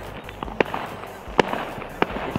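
A homemade firework fuse burning outdoors, with a low crackling hiss broken by three sharp, close pops spread a second or so apart.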